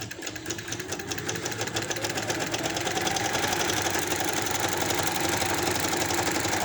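A sewing machine runs steadily close by, stitching palazzo pants with a fast, even mechanical whir and rattle that holds throughout and builds slightly in loudness, with no voices over it.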